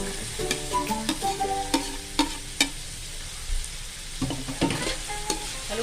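Squid and carrots stirred in a frying pan: a soft sizzle underneath repeated sharp scrapes and clacks of a utensil against the pan, arriving in irregular bursts, close and fairly loud.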